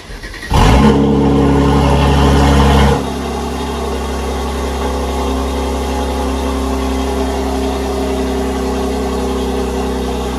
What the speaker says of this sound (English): So we're about to turn the car on right now.